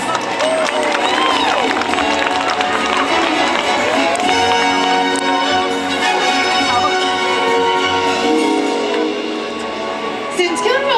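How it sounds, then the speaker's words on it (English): Loud audience applause and cheering fill the stadium at a SeaWorld San Diego killer whale show, a continuous roar of clapping, shouting and children's voices, with music playing underneath throughout. "How about another round of applause?"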